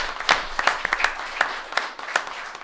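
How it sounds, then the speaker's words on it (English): Audience at a Waterville, Ohio city meeting breaks into applause, a steady patter of many hands clapping at moderate volume, with no speech over it. "She deserves a round of applause too."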